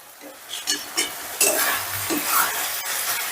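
Onion masala with turmeric and Kashmiri chili powder being sautéed in a pan for paneer do pyaza, a close sizzle punctuated by several sharp spoon-scraping stirs, no talking.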